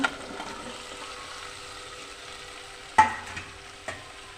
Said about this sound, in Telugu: మనం ముందుగా కట్ చేసుకున్న బెండకాయ ముక్కలని ఇందులో వేసుకోవాలన్నమాట